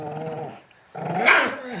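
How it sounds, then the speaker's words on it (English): Dogs growling and snarling in a scuffle, two close bursts of rough throaty noise separated by a brief pause, fairly loud and near with no talking over it. "Oh, mean dogs. Mean dogs. Mean dogs."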